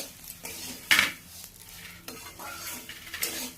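Broken wheat (dalia), already fried, being stirred in a pan: a few scraping, clinking strokes of a spoon against metal, with one sharper knock near the start, close and fairly quiet, no talking.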